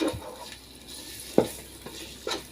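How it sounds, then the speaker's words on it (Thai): Chili paste stir-fried in a pan over low heat for Thai khanom chin nam ngiao, a soft sizzle under a few sharp scrapes and clacks of a utensil against the pan, no talk. "ผัดน้ำพริกให้แตกมันเลย"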